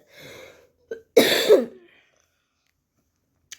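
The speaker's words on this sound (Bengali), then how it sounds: "আমার এত কাশি হয়েছে না, কি বলবো।" A single rough cough, close and fairly loud, preceded by a soft throat sound, then silence.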